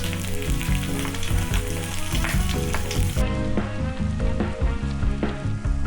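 Bacon and eggs fry in a pan with a dense, crackling sizzle that runs steadily under background music, and no one speaks.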